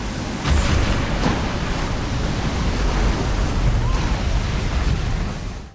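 Huge ocean waves crash and roar with heavy wind at sea around a crab-fishing boat, a loud, continuous broadband wash of surf and gusts filling the whole stretch.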